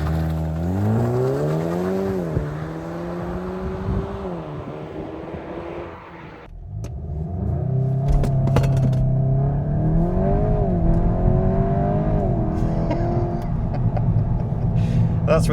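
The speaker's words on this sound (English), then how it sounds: "the car starts as loudly as it possibly can with as many pops and bangs as it can" A VW Golf GTI Clubsport 8.5 engine revs loudly with rising and falling whine, then drops and restarts into a deep idle with sharp pops, up close.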